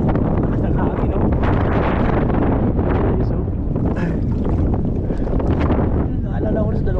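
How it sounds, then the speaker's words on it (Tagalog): Strong wind roars and buffets the microphone continuously on a fishing boat during monsoon weather, with water and boat noise mixed in and a voice faintly underneath. "Lakas ng hangin oh."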